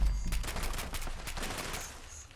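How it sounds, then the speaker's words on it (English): Rapid bursts of heavy Liberator robot cannon fire in Fallout 76 rattle in quick succession, loud and continuous, with no talking. "I hear more Liberator cannons firing."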